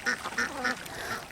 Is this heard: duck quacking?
yes